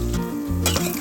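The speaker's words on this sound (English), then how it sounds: "Fry this till it's golden brown and turn to the other side." Plantain slices frying in hot oil over medium heat, a short burst of close sizzle over a low hum, with a light clink of a utensil against the pan.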